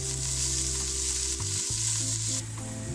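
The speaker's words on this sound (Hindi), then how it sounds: "ऑयल डालने के बाद हम इसमें प्याज डाल देंगे और प्याज को हम ब्राउन कर देंगे।" Steady, dense sizzling of onions frying in hot oil, loud and continuous with a faint low hum underneath and no talking.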